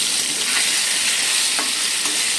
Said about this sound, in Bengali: এবারে আলুটাকে হালকা করে ভেজে নেব